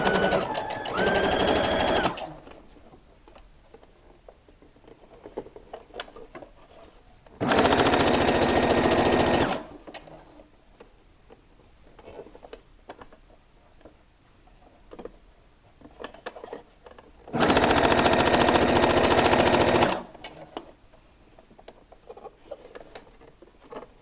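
A sewing machine stitches a hem on a top with sleeves cut in one with the body, in three loud, even bursts of rapid stitching of a couple of seconds each, separated by quiet pauses with light handling noise.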